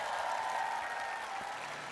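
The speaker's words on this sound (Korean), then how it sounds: "박수를 저한테 치면 제 기분이 좋을까요?" Audience at a talk concert in Seongnam clapping together, a steady, fairly quiet wash of applause heard from a distance for under two seconds with no speech.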